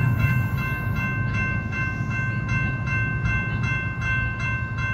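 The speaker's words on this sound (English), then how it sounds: "Man, the train got it pretty good, guys." A train rolls past steadily after hitting a diesel truck, a continuous low rumble of rail cars with faint repeated clacks and a thin sustained tonal ring over the top.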